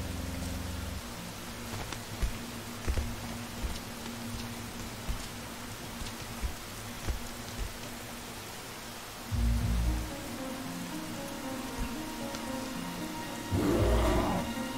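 Continuous video game rain patters steadily, with scattered soft thumps and a couple of brief louder rumbling bursts breaking through the wash of noise.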